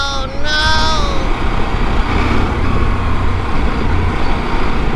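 Steady, loud road traffic rumble surrounds a CFMOTO 800MT Explorer motorcycle stuck in a long jam during a test ride, with a brief high tonal whine at the start over continuous low engine and tire noise.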